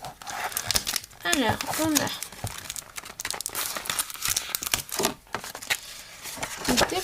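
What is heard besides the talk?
packaging being opened and crinkled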